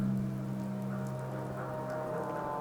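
Steady rain falls throughout a video game scene, a continuous even patter over a low droning background hum, with no speech.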